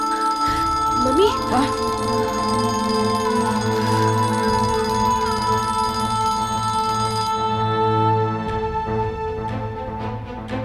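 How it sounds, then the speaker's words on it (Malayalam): A mobile phone ringtone sounds in a scene from a Malayalam crime thriller film. It rings loudly and close as a steady melodic pattern throughout, over a low pulsing hum. "മമ്മിയുടെ ഫോണുണ്ട്."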